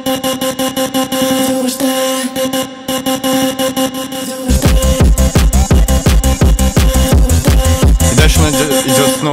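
A pulsing synth with a wide, shimmering chorused tone repeats a rhythmic pattern; halfway through a punchy beat kicks in beneath it, loud and dense.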